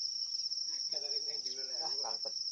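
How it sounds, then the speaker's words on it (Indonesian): Steady high-pitched insect drone, identified as a bee buzzing, holds throughout near a reservoir while fishing, with faint voices murmuring underneath. "Lebah."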